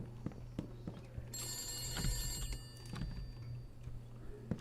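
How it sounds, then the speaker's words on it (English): A telephone rings in a video game, a bright electronic ring lasting over a second among soft clicks, footsteps and ambient game noise, at moderate loudness. "Emma, where are you hiding the phone? Is it in the attic"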